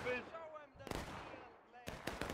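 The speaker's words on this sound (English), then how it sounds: "You can see how deadly those pistols are." Cavalry pistol shots in the Civil War video game War of Rights, two sharp cracks a second apart with a rattle of further reports, faint battle noise and a brief voice.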